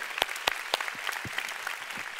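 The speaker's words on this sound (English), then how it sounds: "Give the Lord a big hand." Church congregation clapping for a few seconds, a dense crowd patter with several loud, sharp handclaps close by at the start and scattered fainter claps after.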